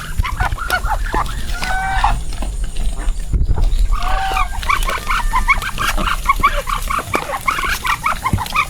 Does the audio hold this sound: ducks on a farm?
yes